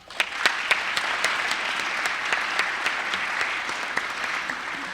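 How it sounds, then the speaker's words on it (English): Applause at an AFJROTC change of command and spring staff ceremony, a dense crowd patter with several sharp, louder claps from nearby hands standing out in a loose rhythm over the steady background. "Let's give another round of applause."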